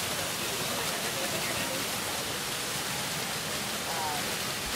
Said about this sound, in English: Do you want to see the waterfall?